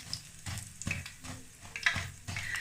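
Pakoras sizzle and crackle in hot oil, with soft stirring and scraping sounds from a utensil in the pan. The frying sound is steady and close, and no one speaks.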